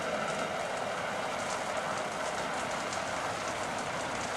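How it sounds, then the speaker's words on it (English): Heavy rain pours down steadily in a continuous, hissing wash, dense and unbroken throughout, with no voices. "It's pouring with rain, and I don't like it."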